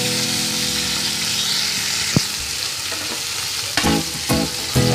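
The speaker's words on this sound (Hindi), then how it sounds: "ये फिश हमारा फ्राई हो गया।" Pomfret fish fries in hot oil in a pan, a loud continuous close sizzle with a few sharp clinks and scrapes near the end.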